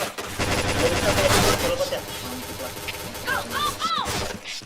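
Gunfire from the online shooter PointBlank, rapid bursts of shots with crashing impacts, dense at first and then fainter, mixed with game effects and a voice talking over it.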